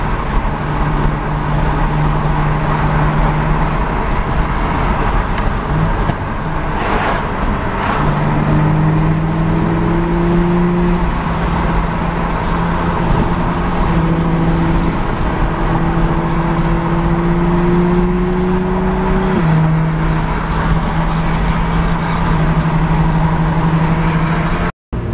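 Steady engine drone from inside a car cruising in fifth gear with the windows presumably open, loud wind rush over a low hum, with a few faint tonal whines drifting in the middle.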